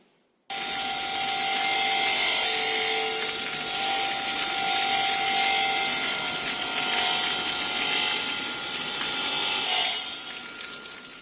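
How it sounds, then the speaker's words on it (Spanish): A continuous, loud saw grinds and hisses for about ten seconds during mosaic work, steady with slight surges, then tapers off. "En el suyo, armada de sierra, martillo y cincel, Luisa elabora espléndidos mosaicos."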